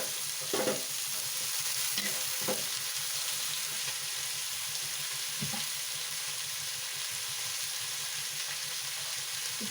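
Ivy gourd tossed with onions in a hot pan gives a steady sizzle and hiss, with a few soft scraping stirs near the start and middle and no talk.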